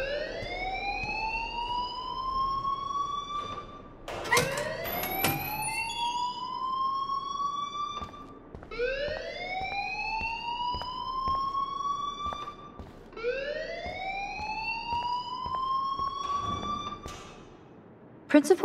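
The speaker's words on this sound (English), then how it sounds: "please turn off that alarm since that's your job" A school fire alarm in the Life Is Strange video game wails in repeated rising sweeps, four cycles in a row, loud and electronic, with brief sharp noises breaking in between.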